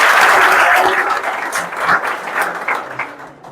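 A crowd at a gathering claps loudly and enthusiastically, the applause staying dense at first and then slowly tapering off.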